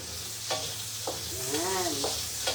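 Onion frying in a pan for pancit canton gives a continuous close sizzle, with a few stirring scrapes and a brief voice-like tone over the hiss.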